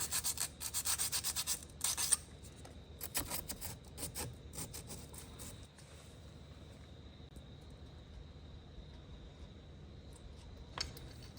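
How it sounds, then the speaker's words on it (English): A surface roughed up by hand sanding before epoxy glue during a Victron Smart Shunt install, brisk close rubbing strokes for the first few seconds, then quieter intermittent scraping and a faint steady hum. "So just rough this up a bit so that epoxy glue that I'm going to use will stick."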